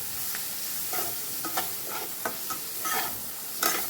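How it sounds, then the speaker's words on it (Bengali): Spice masala with turmeric powder is stir-fried dry in a pan, a soft sizzle broken by repeated spatula scrapes and clinks at an uneven pace. "দিয়ে ভালো করে মশলাটা কষিয়ে নেব"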